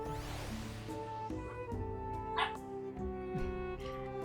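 A small dog minion in the video game Final Fantasy XIV gives soft yips and whimpers over layered game music, the short chirpy calls repeating a few times at moderate level.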